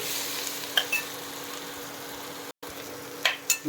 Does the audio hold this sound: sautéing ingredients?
yes